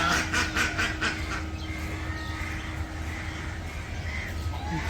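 Village ducks quacking in a rural Bangladeshi setting, a few repeated calls at moderate distance over steady low background rumble, with a brief cluster of harsher calls early on.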